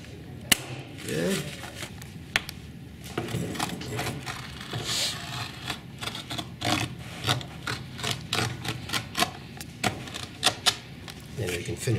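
Repeated sharp mechanical clacks from a staple gun fire in irregular bursts, close by, as fabric is pulled tight and stapled onto bumpers, mixed with rustling fabric and occasional handling noise.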